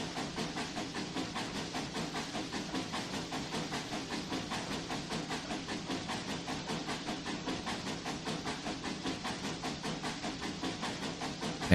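A steam locomotive passes in the Trainz 2019 railway simulation on the C&O Hinton line, giving a steady, even, rhythmic chuffing hiss that pulses evenly and stays moderately quiet and continuous, with no talking.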